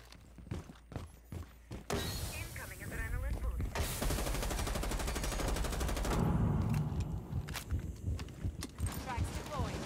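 Gunfire in the video game Rainbow Six Siege as cameras are shot out, with sharp rapid shots at the start, then a dense burst of automatic fire and clattering game noise under a speaking voice.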